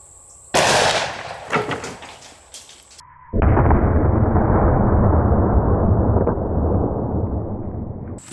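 A Desert Eagle .50 AE fires through a bone outdoors: one sharp, very loud blast with a ringing tail, followed by a long steady roar of broadband noise.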